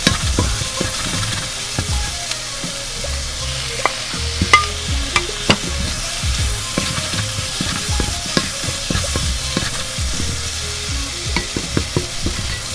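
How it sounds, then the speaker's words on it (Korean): Shrimp and seafood for jjamppong sizzle steadily in a hot pan while a utensil scrapes and stirs, with frequent clinks and taps against the metal. "지금 요쯤에 넣고 살살 볶아주시면 됩니다"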